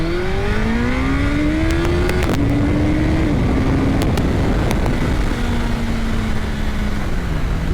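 Gen 3 Suzuki Hayabusa motorcycle pulling hard at full throttle, engine note climbing steadily in pitch through the gears with brief dips at shifts, loud and close over heavy wind rush.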